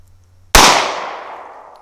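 A single gunshot fired outdoors as a baseline for a sound level meter reading, one sharp loud crack followed by a long decaying echo tail and nothing else.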